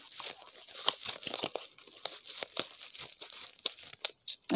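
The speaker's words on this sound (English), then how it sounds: "what I'm going to do is trim this excess plastic off" Scissors snip and trim excess plastic from a doll crier being repaired, a run of close, crisp cutting and crinkling sounds with no talk.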